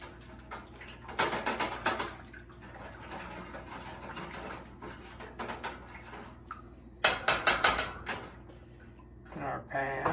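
Orange roast ingredients mixed with Worcestershire sauce in a pan, bursts of clattering and scraping utensil strokes against the pan in uneven groups, close, with a voice speaking at times.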